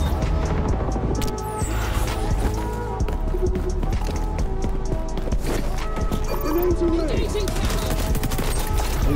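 Rapid gunfire bursts from a first-person shooter match in XDefiant, loud and dense throughout with overlapping shots and game effects, while a player talks over the action.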